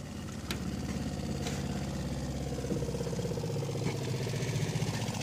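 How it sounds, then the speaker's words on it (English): The water pump in a Class B campervan draws plumbing antifreeze through the plumbing during winterizing. It gives a steady, continuous motor hum and clatter at a constant level, with no talk. "all I have to do now is turn the pump on."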